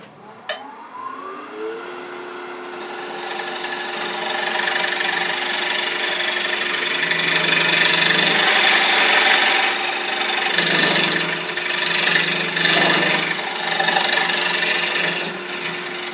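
A motorized sharpener spins up with a rising whine, then a woodturning skew chisel grinds against it in a loud, steady, rasping hum that swells and eases for several seconds.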